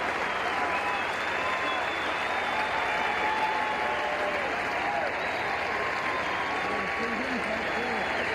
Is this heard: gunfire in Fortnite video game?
no